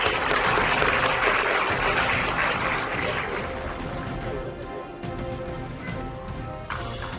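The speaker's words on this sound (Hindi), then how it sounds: "तालियों की आवाज।" A crowd applauds at a lamp-lighting ceremony in Giridih. Loud, dense clapping from many people fills the start and slowly thins and fades, with some voices mixed in.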